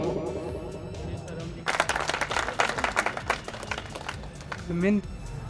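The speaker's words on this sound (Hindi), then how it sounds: "जोरदार तालियां" Applause at a Prajapati community gathering in Bidasar, following a garland welcome for a guest: a burst of clapping starts about a third of the way in and continues under a busy crowd murmur, with a brief voice near the end.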